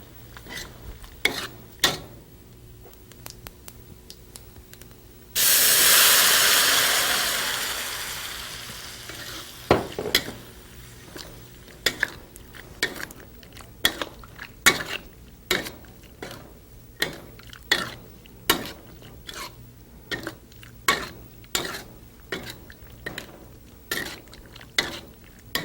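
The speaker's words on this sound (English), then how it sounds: "we're going to throw our beans that have been marinated into the cumin seeds, and we're going to dry fry it" Marinated beans tumble into hot cumin seeds in a pan with a bright burst of sizzling that fades, followed by repeated clanks and scrapes of a utensil stirring as the beans dry-fry.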